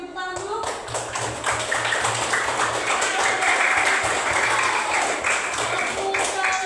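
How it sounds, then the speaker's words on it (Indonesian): A classroom audience applauds group 4 after a group presentation, a dense continuous patter of many hands clapping together, with voices talking underneath. "Tepuk tangan untuk kelompok 4."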